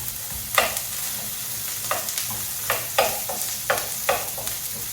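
Onions fry in a pan with a steady sizzle, broken by repeated short scraping strokes of stirring at a fairly even rhythm, close and clear with no talking.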